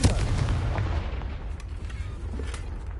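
A Confringo fire spell exploding in Hogwarts Legacy, heard as a heavy, sustained blast with a deep rumbling roar and crackle that fades slowly over a few seconds, loud and close.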